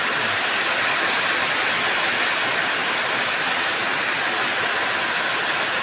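Heavy rain pours down steadily in Alook, a dense, loud and unbroken roar of water that fills the whole scene with no voices.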